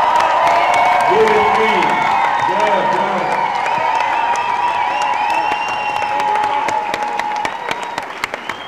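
At a candlelight vigil for Ken Saro-Wiwa, a gathered crowd claps and cheers with whoops, while voices shout and call out over the applause, which thins toward the end into scattered claps.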